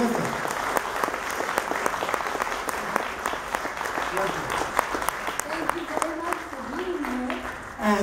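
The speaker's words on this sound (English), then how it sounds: "I want you all to join me in a nice round of applause for these two fabulous ladies who are both terrific." A convention audience applauds Maud Adams and Britt Ekland at a nostalgia event, steady dense clapping from a hall crowd, with someone speaking over it toward the end.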